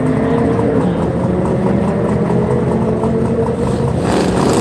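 Chevrolet S10 drag racing truck, a twin-turbo build at a Sick Week event in Gainesville, Florida, roaring loud and steady as it accelerates down the strip with no talk.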